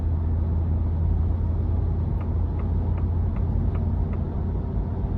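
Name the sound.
2023 Ford F-250 7.3 liter V8 truck driving under acceleration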